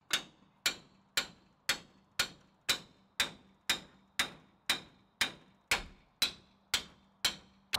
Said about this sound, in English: Then I welded this together, so I'm cracking that weld open.